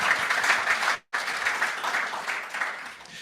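Steady audience applause at a biogas and biomethane conference, a thick wash of many clapping hands with one brief moment of silence near the start before the clapping continues.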